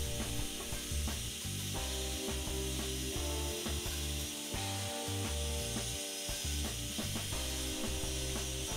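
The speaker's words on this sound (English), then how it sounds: "The jigsaw I'm using here is absolutely hopeless and cannot cut a straight line." Jigsaw cutting wood for a paddleboard build, a close, rapid buzzing rasp that stops and restarts in short irregular bursts.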